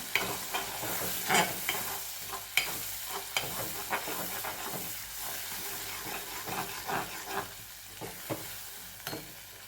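A ground masala paste with green chilli sautés in a pan, a moderate sizzling hiss punctuated by repeated scraping and knocking strokes of a spoon stirring it, close and fairly quiet.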